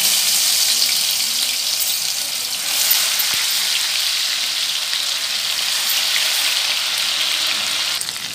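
Ginger garlic paste sizzles and fries in hot oil for a Hyderabadi chicken 65 biryani, a steady loud hiss and crackle running unbroken from start to finish with no talking over it.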